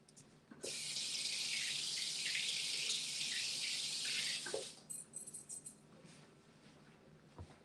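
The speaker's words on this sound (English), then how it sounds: "I'm going to rinse these off" A kitchen tap runs hard and steady for about four seconds as vegetables are rinsed under it, then shuts off, leaving light clatter and drips, nearby and moderately loud with no talking.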